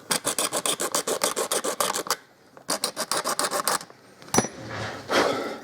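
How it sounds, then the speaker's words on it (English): A coarse, almost rasp-like file scrapes in quick, even back-and-forth strokes, two bursts of a dozen or so rough grating passes, loud and close, followed by a few scattered knocks and softer rubbing. "There's a coarse file that's almost a rasp."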